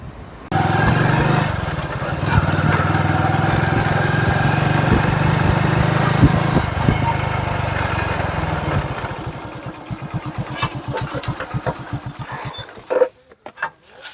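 A motorcycle engine runs steadily at a fairly close distance, then drops to an uneven, pulsing idle before cutting out near the end.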